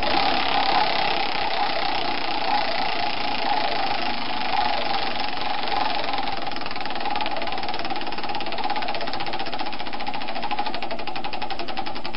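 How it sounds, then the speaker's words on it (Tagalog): A wheel of fortune spins during a radio call-in game, making a continuous mechanical whirring rattle whose rapid ticking grows more distinct toward the end, steady and fairly loud throughout. "Paikutin ang roleta ng kapalaran."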